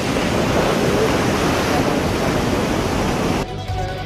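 Strong ocean waves crash and break on a beach in a steady, loud, continuous roar of surf that drops off abruptly near the end.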